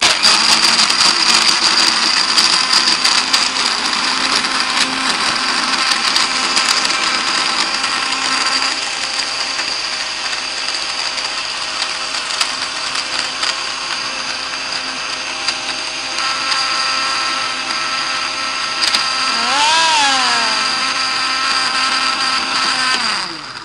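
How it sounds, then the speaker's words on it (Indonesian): A blender crushes ice for a milk drink in a steady, loud, continuous whir that runs without talk for the whole stretch, its pitch shifting slightly near the end. "udah pegang tangannya di atas blender. Kita siap-siap, kita blender bersama-sama ya."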